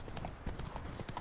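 Horse hooves clip-clopping as the horse Roach is ridden in The Witcher 3: Wild Hunt, a quick steady rhythm of close, soft hoofbeats over a short stretch.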